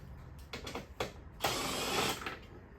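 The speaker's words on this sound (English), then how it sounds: "We got our 10 millimeter. Go ahead and take the seat bolts off." A 10 millimeter wrench ratcheting out the seat bolts on a Kawasaki KDX250 motorcycle, a few short clicking bursts followed by a longer ratchet run, close and fairly quiet with no talking.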